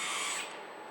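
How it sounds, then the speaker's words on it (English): A Robo Drill CNC machine runs with a bright, steady high-pitched whir that is loudest at first and then settles slightly lower, with no voices. "The Robo Drill is seriously one of my favorite machines."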